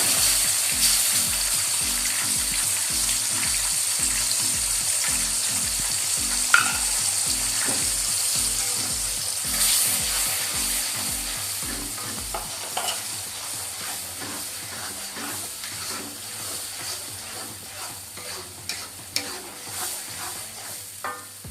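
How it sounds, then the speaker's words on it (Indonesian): Spice paste sautéing in a pan for spicy peanuts with anchovies gives a loud, steady sizzle and crackle, with rhythmic low stirring or scraping knocks through the first half before the frying continues alone. "lanjut saya mau menumis bumbu."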